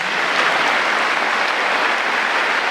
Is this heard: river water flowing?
no